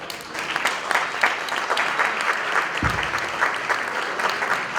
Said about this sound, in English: let's give me a good applause to Johnny Torres